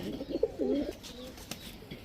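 A female Hungarian highflyer Budapest pigeon gives a short, soft burst of cooing near the start, then quiet rustling, with no one speaking.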